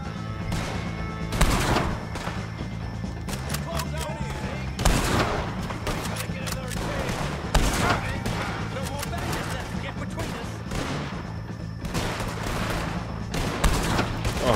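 Gunfire in Red Dead Redemption 2, repeated loud shots at irregular intervals across a sustained action scene with a musical score underneath and a voice speaking over it.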